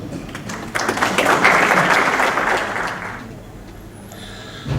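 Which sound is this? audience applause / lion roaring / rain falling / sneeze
audience applause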